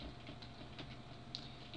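Quiet, scattered keyboard typing: soft irregular key clicks at a low level, with no voices.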